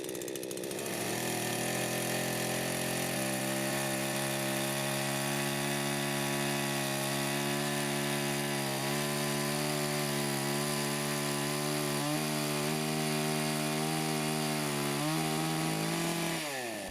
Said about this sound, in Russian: Очень неожиданно, но цепь пилит хорошо.